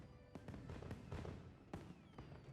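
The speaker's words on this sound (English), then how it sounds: "fireworks. Wow." Fireworks going off during the Blossomdance event in the video game Monster Hunter Wilds: a string of sharp bangs and crackling bursts, several in quick succession with echoing decay.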